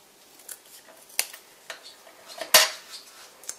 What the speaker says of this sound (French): Alors là je vais couper la petite partie qui est en trop.